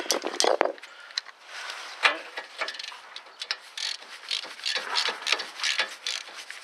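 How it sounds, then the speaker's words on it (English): A 3/4 inch ratchet works loose a front lower ball joint on a Ford SUV, its rapid pawl clicks coming in close, uneven bursts for several seconds with no talk. "Use my 3/4 inch ratchet to make it a little faster."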